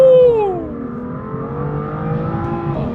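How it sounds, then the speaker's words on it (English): A BMW F87 M2 fitted with an M Performance exhaust in Sport Plus mode accelerates hard, its engine note sweeping down after an opening rise and then climbing steadily, loud and close, with no talk over it. "it's got the M Performance exhaust on it, which sounds crazy"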